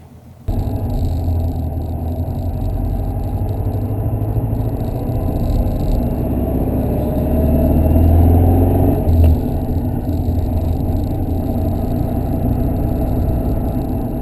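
A 1964 Porsche 356 C coupe cruises along a freeway, its engine giving a steady, close drone over road rumble, swelling briefly mid-way before easing back.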